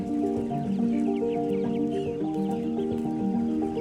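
Heritage chickens of French Label Rouge stock cluck and chatter on a farm, a dense, continuous flock murmur with sharper calls popping out, steady and fairly close with no talking.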